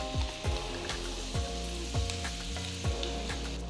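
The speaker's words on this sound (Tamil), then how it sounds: "நல்ல ஒரு அகலமான கடாயில 100 கிராம் உப்பு இல்லாத வெண்ணெய் சேர்க்கிறேன்." Unsalted butter melts in a wide pan with a steady, close sizzle and crackle, plus a few soft utensil taps over the frying hiss, with no talking.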